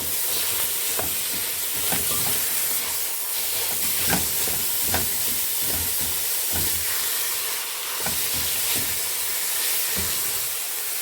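Minced meat with a hot chili pepper frying in a pan, a continuous sizzle and hiss broken by frequent scraping stirs and sharp clicks of a utensil against the pan, close and steady.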